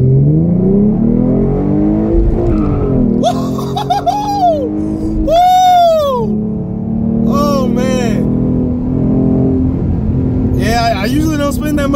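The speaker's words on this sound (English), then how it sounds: "Now I'm gonna do basically another pull in first gear here" A tuned V6 Mustang pulls hard in first gear, its engine note climbing loud and close in rising sweeps with a brief dip between pulls, while a voice reacts excitedly over the roar.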